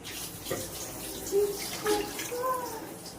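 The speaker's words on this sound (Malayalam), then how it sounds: "ഇനി ഇതിലേക്ക് വെള്ളം ആഡ് ചെയ്ത് കൊടുക്കാം" Water is poured from a glass into a pot of biryani rice, a faint splashing gurgle in a few short pours, close but quiet.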